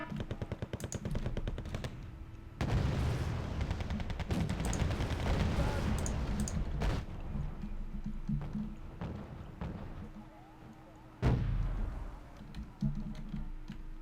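Gunfire and artillery in Wargame: Red Dragon, a Second Korean War campaign battle, with dense rattling bursts of automatic fire and heavy booming blasts, loud and continuous through most of the stretch, fading briefly before another sharp burst.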